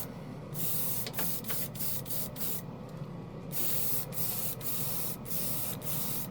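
An airbrush sprays primer in continuous hissing bursts, fed by a cheap portable $40 air compressor that hums steadily underneath, with short pauses between spray passes.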